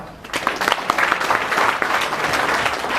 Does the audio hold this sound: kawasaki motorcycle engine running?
no